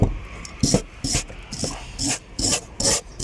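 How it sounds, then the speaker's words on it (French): A wire brush scrubs a steering rack bar clean, loud close rhythmic back-and-forth scraping strokes about twice a second, each a harsh bristly rasp. "là, on est en train de lui faire un petit coup de propre à la brosse métallique"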